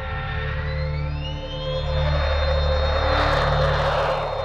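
A powered aircraft engine roars loud and close, holding a steady drone with a whining tone that climbs in pitch and swells louder midway, with no voices.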